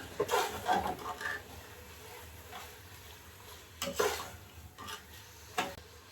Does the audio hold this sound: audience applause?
no